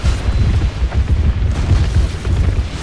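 Heavy battering ram striking castle gates in a Third Age Total War siege battle: repeated deep booming thuds that run together into a loud, continuous low rumble.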